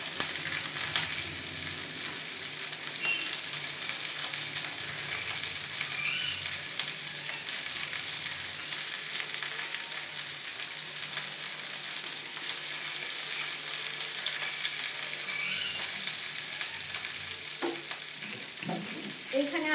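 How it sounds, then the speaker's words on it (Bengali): Carrots and three green chillies frying in a pan for a cauliflower and carrot curry, a steady, close sizzle with scraping stirring that grows busier toward the end, no talking. "এইবারে আমি গাজরগুলো দেবো আস্তে করে, আর একটুখানি এটা ভেজে নিই।"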